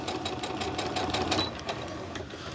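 A sewing machine stitching a crazy crumb quilt block, with a fast, even mechanical whir and rapid needle ticking running steadily at moderate volume throughout.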